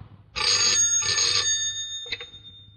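An indoor telephone rings in two long electronic bursts followed by the start of a third, loud and close with no voices.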